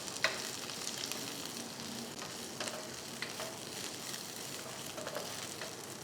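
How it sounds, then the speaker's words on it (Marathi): Curry leaves roast in a spoonful of oil in a pan, giving a steady, faint sizzle with light crackles throughout, no voices. "इथं परत एक चमचाभर तेल घालू आणि ह्याच्यामध्ये आपल्याला हा कढीपत्ता जो आहे तो छान कोरडा होईपर्यंत परतून घ्यायचा आहे"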